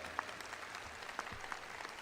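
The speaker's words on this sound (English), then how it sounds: "you can give her a round of applause" Scattered, fairly faint applause from a commencement audience at a university graduation ceremony, honouring a graduate with many cords, with a few sharper individual claps standing out.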